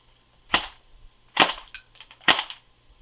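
Three sharp, close shots from a CYMA/UKArms AK-47 CM.022 airsoft rifle firing .12 BBs, each a crisp snap followed by a brief rattle, spaced about a second apart in a quiet setting.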